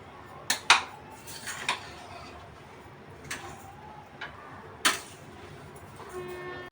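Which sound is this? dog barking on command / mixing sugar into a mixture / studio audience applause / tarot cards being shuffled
mixing sugar into a mixture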